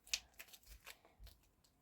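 A small paper surprise packet in a Crumbl Cookies theme is torn open by hand, giving a few faint, quick papery crinkles and snaps in a quiet room.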